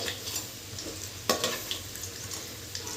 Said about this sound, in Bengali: এই দেখুন গল্প করতে করতে একদিকটা ভাজা হয়ে গেছে, আবারও আমি উল্টে দিচ্ছি